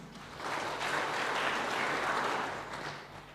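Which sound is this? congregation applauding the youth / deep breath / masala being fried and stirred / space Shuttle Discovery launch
congregation applauding the youth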